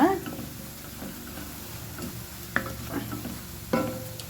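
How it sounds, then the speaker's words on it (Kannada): Garlic and chili mixture frying in oil over medium heat while being stirred in a pan, with a steady soft sizzle and a few sharp scraping clicks of the spoon against the pan, close by. "ಚೆನ್ನಾಗಿ ಎಣ್ಣೆಯಲ್ಲಿ ಕೈ ಬಿಡದೆ ಇದನ್ನು ಮೀಡಿಯಮ್ ಉರಿಯಲ್ಲಿ ಇಟ್ಕೊಂಡು ಚೆನ್ನಾಗಿ ಮಿಕ್ಸ್ ಮಾಡುವ."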